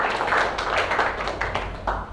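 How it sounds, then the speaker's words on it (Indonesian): A classroom of students claps for a classmate after her answer about volcanic eruptions, a short burst of scattered hand claps with faint voices mixed in. "Tepuk tangan untuk Neng"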